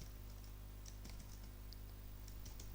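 Soft, faint keystrokes on a computer keyboard as Python code is typed, a few scattered clicks against a quiet background hum.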